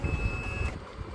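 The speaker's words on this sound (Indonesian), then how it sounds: "ini juga pasti konslet tuh, buzzer bunyi" A multimeter continuity buzzer sounds a single steady electronic tone for under a second while probing a shorted capacitor on a Sony 32-inch LED TV board, then cuts off, over a noisy background.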